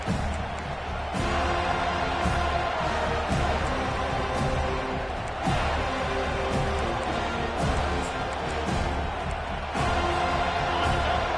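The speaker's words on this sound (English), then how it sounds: "This crowd, full throat, splitting the eardrums and letting them know it's going to be a long day." A packed football stadium crowd at an NCAA tournament game against Texas roars loudly and continuously, a dense wall of cheering with occasional surges and whoops.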